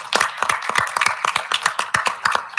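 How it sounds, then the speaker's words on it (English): Applause from a small audience at a school board of education meeting, a brief burst of steady, moderately loud clapping with no talking. "Let's give him a nice round of applause."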